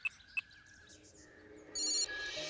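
A telephone rings faintly during an outgoing call: two short tones come first, then a brief electronic ringtone, quiet and alone with no talking.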